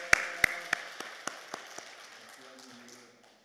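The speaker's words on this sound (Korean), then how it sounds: "이 시간 하나님 앞에 영광의 박수 올려드립니다." A church congregation giving applause to God during a worship service, a handful of sharp separate claps that thin out and fade, with faint low voices lingering beneath.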